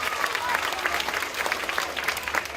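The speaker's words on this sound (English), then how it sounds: "let's give our two guest speakers a big round of applause" A school assembly audience of children and adults applauds two guest speakers at an elementary school's 50th anniversary celebration, with steady, dense clapping throughout and a few voices mixed in.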